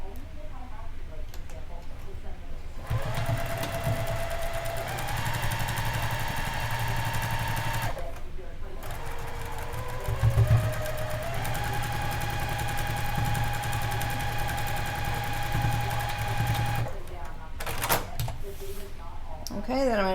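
A sewing machine runs in long steady bursts while two quilt block rows are stitched together, its motor hum rising and holding with short pauses between runs, fairly close and loud.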